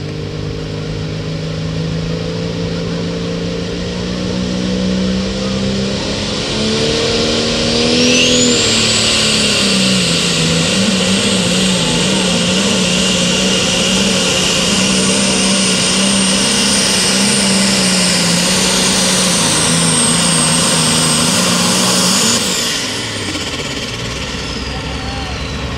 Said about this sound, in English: Job with his Alice Chalmers diesel-powered light superstock tractor.